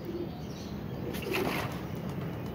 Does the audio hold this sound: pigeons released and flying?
yes